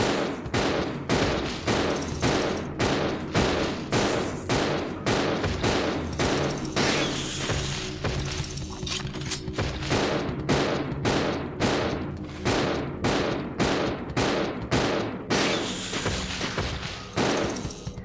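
Pistol fire at plague crawlers in Resident Evil Zero: a long, steady series of evenly spaced loud shots, briefly pausing midway before the rhythm resumes, close and dominant.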